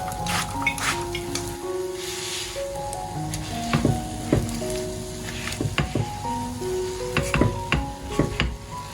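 Glutinous rice-flour cake filled with red beans pan-fries slowly in oil over low heat, giving a steady soft sizzle with scattered crackles and a few light scraping clicks, with no talking.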